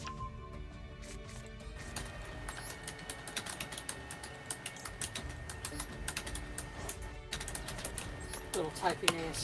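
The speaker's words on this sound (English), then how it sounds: "Little typing ASMR." Rapid clicking keystrokes on a computer keyboard during a Yu-Gi-Oh Master Duel session, a dense irregular clatter that runs throughout, with a voice talking underneath and a burst of quicker taps near the end.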